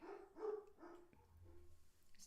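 Dogs bark several times in quick succession, faint and distant, followed by softer yips and whimpers.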